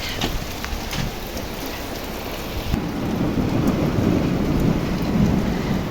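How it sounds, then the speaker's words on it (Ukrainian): Steady rain pattering on surfaces with a rumble of thunder rolling in partway through, growing heavier toward the end. "Ох, погодка в нас сьогодні дощ"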